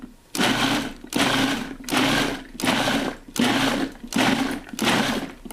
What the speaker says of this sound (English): I've got a can of our peeled tomatoes in the food processor.